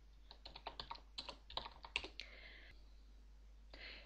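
A computer keyboard is typed on in short, quick bursts of close, crisp key clicks as a command is entered, followed by a brief quiet pause.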